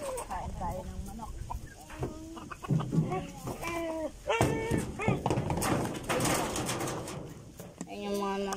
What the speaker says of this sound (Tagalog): Ayan yung mga manok ko.